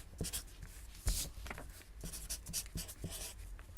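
Marker or chalk scratching and tapping on a board while bond present value is worked out, short irregular strokes close by, fairly quiet, with no talk over it.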